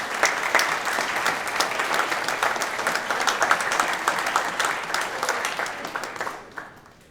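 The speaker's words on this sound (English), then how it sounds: "please turn and give them a round of applause." A college commencement audience for graduate and professional studies claps in sustained, dense applause that holds steady for several seconds before tapering off at the end.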